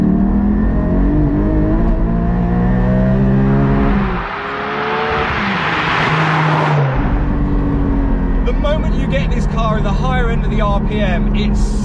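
A Porsche 718 Cayman GT4 engine revving hard to high RPM, its tone climbing in a loud rising howl, dipping briefly around a gear change, then pulling up again, with someone talking over it.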